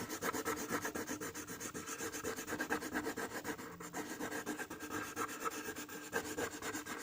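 A pencil colouring on paper, with rapid back-and-forth scribbling strokes in a close, soft, steady rhythm that continues without pause and with no voices.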